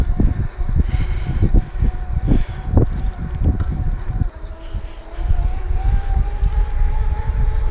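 Wind gusts buffet the microphone outdoors at night, a steady low rumble with heavy thumping bursts, briefly easing before picking up again, with no talking.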